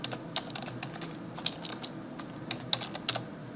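Light keystrokes on a computer keyboard while entering a customer name into home and business accounting software, quick irregular taps and clicks heard alone and fairly faint.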